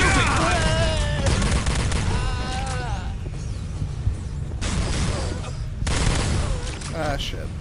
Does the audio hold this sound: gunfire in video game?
yes